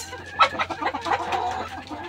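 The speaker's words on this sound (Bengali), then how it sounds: "মুরগিগুলো খাবার খাচ্ছে" Native hens in a backyard chicken pen cluck softly while feeding, several short close clucks and murmurs in a quiet setting, without talk.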